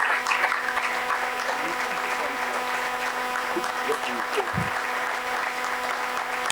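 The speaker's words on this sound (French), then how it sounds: "Quand il vient, on acclame le Seigneur très fort." A church congregation at a Congolese worship service claps and cheers for the Lord in a continuous burst of applause, dense and sustained, with voices calling out among the clapping throughout.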